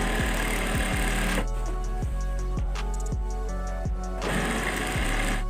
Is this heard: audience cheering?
no